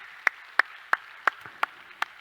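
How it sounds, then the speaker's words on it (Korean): A church congregation claps in slow, evenly spaced unison, six crisp hand claps at a steady beat against a quiet room. "박수로 한번 격려합시다."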